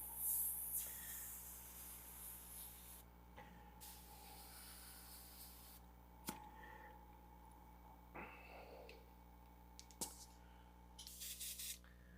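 Airbrush spraying paint while painting a Jack Skellington figure, a soft steady hiss stopping and starting in short bursts over a constant low hum, with a few sharp clicks between sprays.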